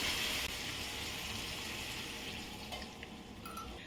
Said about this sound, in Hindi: तो गैस को मैं बिल्कुल स्लो कर रही हूँ और इसमें मैं पानी डाल रही हूँ।